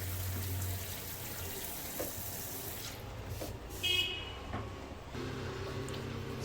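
Water running from a kitchen-style faucet fitted with a three-colour LED temperature-sensing light, a steady gentle hiss and splash with a few small clicks and shifts in flow as hot and cold are mixed.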